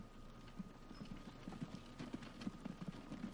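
Horse wagon hooves clip-clop in the Transport Fever video game, a quiet, steady, irregular patter of small knocks under faint mechanical whirring, with no speech.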